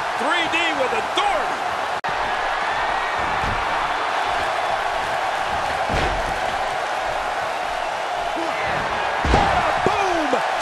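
A wrestler is driven through a door in WWE 2K17, a sharp slam and crack of wood landing around the two-second mark over a loud arena crowd, with commentary running throughout.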